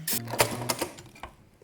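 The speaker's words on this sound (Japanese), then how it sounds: "このように L にですね、縫い代1センチで縫っていきます。" A sewing machine stitches through aluminium sheet for a bottle holder at a 1 cm seam allowance, a few quick clattering runs of the needle followed by short stops, close and clear, no talk.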